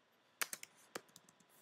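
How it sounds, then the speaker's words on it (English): Several crisp keyboard keystrokes on a computer keyboard while a brand name is entered into a fashion website's search box, an irregular burst of about eight clicks, close and quiet, with no talk. "I'm going to type in a brand"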